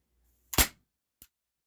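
A single air rifle shot firing a Gamo PBA Raptor pellet: one sharp close crack, followed about half a second later by a faint short impact tick, in otherwise quiet surroundings.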